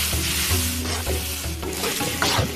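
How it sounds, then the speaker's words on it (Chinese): Fried glutinous tangyuan are stir-fried in hot oil with pickled mustard greens and dried chilies, with a steady close sizzle and repeated scraping strokes of a spatula in the wok. "与无盐酸菜干辣椒炝炒，甜咸酸辣香齐备。"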